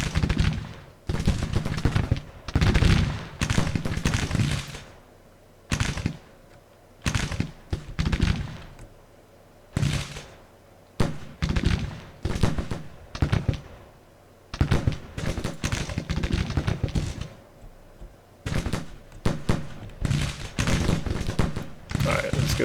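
Civil War battle gunfire in the strategy game Grand Tactician, with repeated bursts of musket volleys and booming artillery in irregular clusters separated by short quiet gaps, loud and close.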